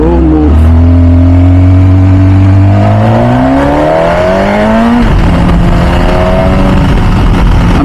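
A loud MV Agusta F4 Tamburini sport motorcycle engine revs and accelerates, its pitch climbing steadily before dropping and building again, close and continuous with no talking.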